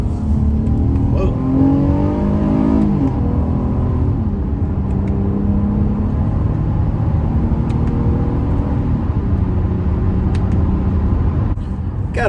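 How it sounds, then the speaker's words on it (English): A Honda Odyssey minivan engine revs under acceleration, a loud, close, steady drone rising in pitch through several sweeps over about twelve seconds, heard from inside the vehicle with rumbling road noise underneath. "I'm gonna let you guys hear the power of the Odyssey."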